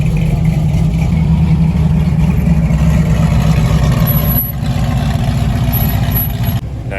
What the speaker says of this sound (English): watching the cars idle in and listening to that sweet, sweet exhaust